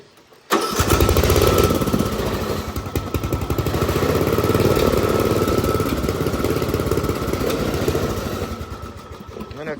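A small engine catches after being restarted, jumping from near quiet into a loud, steady, buzzing run at close range that holds for several seconds.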